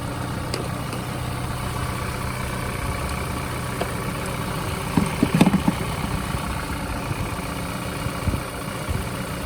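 A Peugeot 307 CC engine idles quietly after a jump start from a portable booster, a steady low hum with a brief cluster of small clicks and knocks midway.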